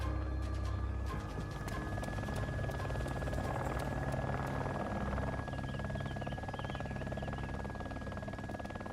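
A helicopter flies in Arma 2 with the DayZ mod, its steady rotor thrum and engine drone holding constant throughout, loud and close, with no voices.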